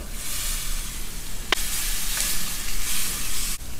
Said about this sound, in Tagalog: ilagay na po natin itong ating baboy